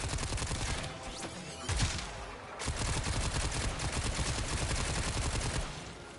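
A primary weapon in Warframe fires in a rapid, relentless stream, loud and close, with a brief dip before the dense automatic fire resumes and runs on to the end.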